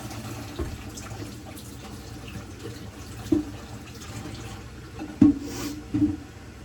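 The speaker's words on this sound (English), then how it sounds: "I'm gonna have to add some more water." Paal kozhukattai dough fries in hot oil with a loud, constant sizzle and crackle, a low steady hum underneath.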